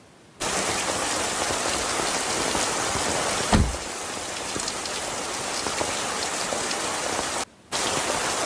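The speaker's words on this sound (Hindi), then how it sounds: "बारिश होने लग गई है।" Steady, dense rain pours down in a scene from the Korean drama Extraordinary Attorney Woo, a continuous wash of falling water with a brief low thump partway through and a short gap of silence near the end.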